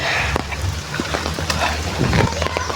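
Rain pouring during an outdoor walk with a broken umbrella, a constant crackling hiss close by, mixed with uneven taps and rustles as drops strike the umbrella and surroundings.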